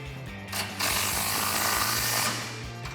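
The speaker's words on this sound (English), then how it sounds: "Now we can tighten this bolt back up, making sure that this bracket stays exactly in this position." A ratchet tightens a bolt on a bracket during an exhaust install on a 2015-2018 Ford F150, giving a sustained run of fast mechanical clicking that builds after a brief pause, close and fairly loud, with no talking.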